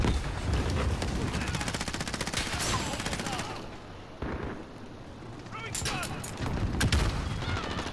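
Gunfire in the Call of Duty: Modern Warfare video game, dense rapid bursts and booming shots that fill the mix, briefly ease, then pick up again, with players' voices talking over the action.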